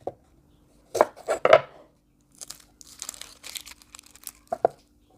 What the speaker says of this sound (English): So now remove the tip and remove the skin and leave the root.